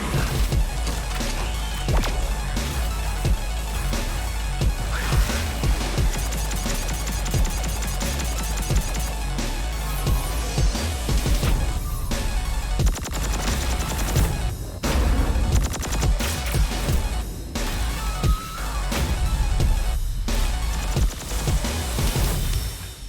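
Dense, loud indie video game gunfire with over 40 guns, rapid bursts and single shots mixed with crashes, impacts and whooshes, continuing almost without pause over a driving soundtrack.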